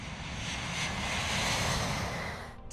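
A commercial airliner's engines roar steadily at Brisbane Airport on the first Brisbane to San Francisco flight, a broad loud wash swelling slightly then easing off, heard alone without voices.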